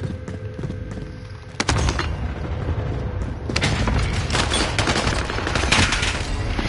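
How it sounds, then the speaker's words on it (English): Cluster strike explosions in a Warzone-style video game, a sharp blast followed by a dense, sustained rumble of many overlapping detonations, loud and continuous to the end. "Cluster strike is active."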